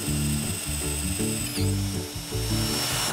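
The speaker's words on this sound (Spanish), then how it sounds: "Broca para metal y agujeros al canto. Agujeros pasantes," A power drill with a metal bit boring through holes in a wooden barrel, a close, loud whining whir that pulses as the bit bites and eases, with a brief pitch dip midway.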